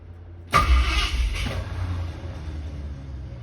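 A hard-starting Torino engine turns over and catches abruptly, sputtering loudly for a moment before settling into a rough, uneven idle rumble.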